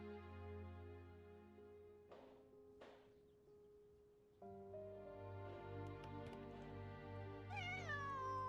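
A cat character meows in the game Genshin Impact, a few short mews rising over steady game music with a louder, bending cry near the end.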